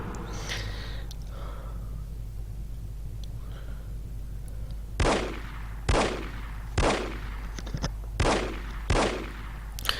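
Gunfire in the video game No One Lives Forever: after quiet ambience, five sharp, loud shots ring out at roughly one-second intervals, each with a short decaying tail.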